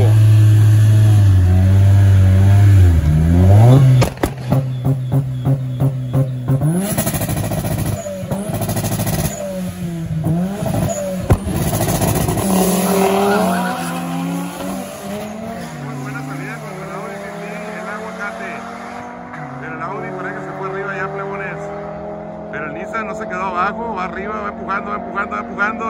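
A twin-turbo Ford Mustang drag racing a turbocharged Nissan 240SX at street drag races in Sinaloa: loud, close engine roar with revving and rapid gear-change pulses, then a long accelerating pull, with a voice talking over it.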